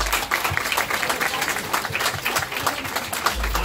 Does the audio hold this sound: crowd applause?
yes